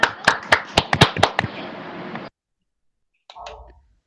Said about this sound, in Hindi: ताली भी तो बजाओ गर्ल्स।